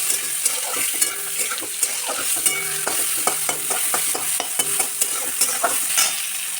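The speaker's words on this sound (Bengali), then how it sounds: "এবার আমগুলো দিয়ে ভেজে নেব।" Mango pieces fry in a pan for dal, giving a steady sizzle with repeated stirring clinks and scrapes of a ladle, close and continuous without talk.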